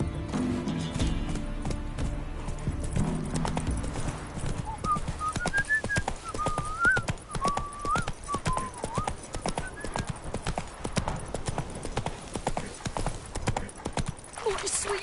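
Roach the horse galloping in The Witcher 3, a rapid, steady clip-clop of hooves running throughout with a brief whinny and a voice speaking near the start.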